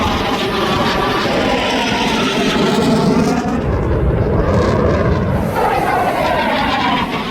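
A JF-17 Thunder fighter jet flies at the Dubai Airshow 2025, a loud, sustained roaring jet engine with shifting whooshing tones as it passes.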